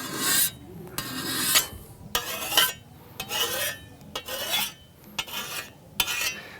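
A sharpening stone hones a scythe blade, cutting the burr off the edge in a series of quick rasping strokes, close and fairly loud, with short gaps between bursts.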